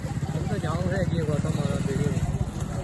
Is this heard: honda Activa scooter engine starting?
yes